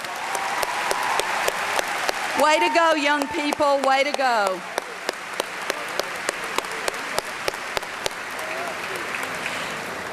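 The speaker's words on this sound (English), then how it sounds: "Let's give our highly talented Central Mariachi Band under the direction of Ladine Harton another round of applause." Applause for the Central Mariachi Band at the 2009 SAISD school district convocation: a dense, steady wash of crowd clapping throughout, with a voice briefly calling out encouragement over it partway through.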